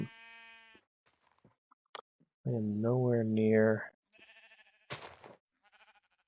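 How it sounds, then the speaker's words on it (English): A sheep in the Minecraft video game gives a long, wavering bleat, loud and clear, with someone talking briefly before it and a few faint blocky clicks and thuds around it. "I did find the brown sheep. Now I gotta bring it home."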